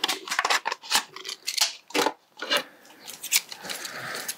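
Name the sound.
scissors cutting a plastic Coke bottle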